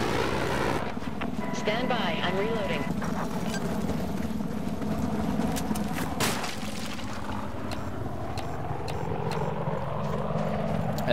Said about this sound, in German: Ja, der Helikopter ist jetzt nochmal zur Unterstützung von uns hier, wie man sieht.